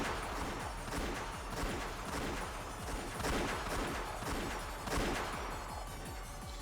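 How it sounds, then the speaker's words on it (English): Rapid repeated gunfire from the video game Umineko When They Cry: Answer Arcs, a dense, loud, continuous barrage of overlapping shots with no voices. "As soon as I heard the sound of repeated gunfire"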